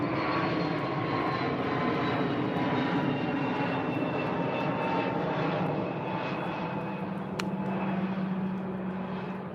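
A fixed-wing airplane passes directly overhead, its steady engine drone loud and continuous throughout, dominating the scene with no talking.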